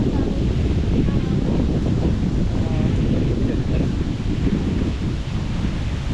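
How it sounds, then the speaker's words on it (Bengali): Strong, cold wind blows at an outdoor goat farm in Kranji, Singapore, under a cloudy sky. A loud, constant, low roaring rush buffets the microphone throughout. "মানে বাতাস যে কত ঠান্ডা"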